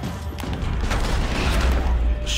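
Gunfire from the video game Max Payne 3: a dense, continuous burst of shots and booms with mechanical clatter, loud and close, running through the whole stretch.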